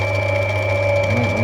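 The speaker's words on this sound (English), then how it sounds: "I think I can salvage a lot more with the Dremel on that one" A Dremel rotary tool grinding Lightning Ridge opal gives off a steady, close, high-pitched whine with a fixed tone and a motor hum beneath it. It runs continuously throughout with no talking.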